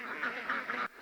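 A flock of ducks on a farm quacks in the background, three loud nasal quack bursts in a row that stop abruptly, with no talking over them.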